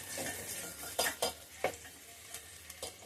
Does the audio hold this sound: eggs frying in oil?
yes